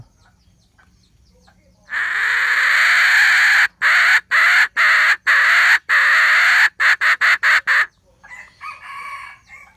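A two-hole brass hen call whistle blown in one long, loud, steady tone, then broken into a quick series of short, choppy bursts, close up with no talking.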